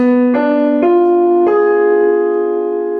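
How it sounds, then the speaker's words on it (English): A B fully diminished seventh chord on a sustained keyboard-like instrument, built note by note: four tones enter one after another and ring together. "B fully diminished sounds like this,"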